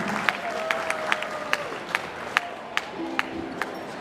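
Scattered claps from a small audience for a Hawaiian falsetto singer's encore, sparse individual hand claps at an uneven rhythm with faint murmuring and a few brief tonal notes in the background.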